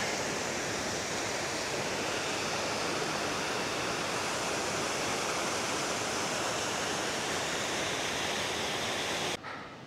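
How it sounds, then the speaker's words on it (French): Small waterfalls cascading through a narrow, steep-sided gorge, giving a steady, dense rushing roar of falling water that stays even and fairly close before cutting off abruptly near the end. "C'est pas forcément des grandes cascades, mais c'est tellement beau."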